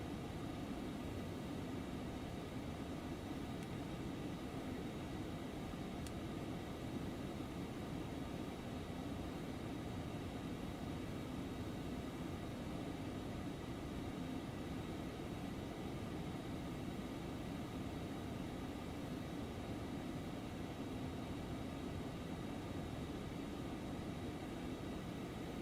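Phenom 300 business jet engine drone heard from inside the cabin in the X-Plane 11 flight simulator, a steady, even broadband roar with a low rumble that holds unchanged throughout.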